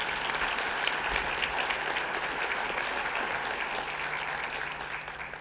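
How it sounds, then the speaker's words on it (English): At a school honors ceremony, the audience applauds a supporting organization with a steady round of clapping from a sizable crowd, a low hum beneath it and the clapping gently tapering off at the close. "Please join me in a round of applause for their organization and all they do to help our school community."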